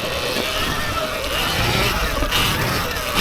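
Sur-Ron Ultra Bee electric dirt bike ridden enduro-style in sport mode, a continuous whirring drivetrain with rough trail noise, loud and close for the whole stretch.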